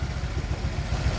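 A motorcycle engine idles steadily at close range after a repair for oil consumption, stalling and power loss, a low even throb with a faint clattering pulse and no talk over it.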